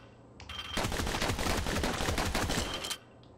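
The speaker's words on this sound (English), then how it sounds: "Let's just shoot more." Rapid gunfire from the Bastion video game, a dense continuous burst of shots that starts abruptly, runs loud for about two seconds and then cuts off, with no talk.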